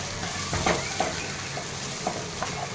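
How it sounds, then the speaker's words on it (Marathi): Garlic, cumin, mustard seeds and onion sautéing in hot oil in a pan, a steady close sizzle with a few light stirring scrapes and clicks, no voices. "लसूण कुटून घेतलेला होता आणि जिरी मोहरी कांदा हे छान परतून घ्यायचा आहे"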